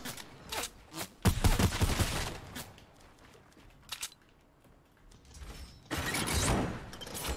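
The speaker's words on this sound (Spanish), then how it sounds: "me disparan por la espalda" Gunfire in a first-person shooter video game while the player is shot from behind: loud broadband bursts in several clusters, with rapid volleys near the start and a sustained burst toward the end, separated by quieter gaps.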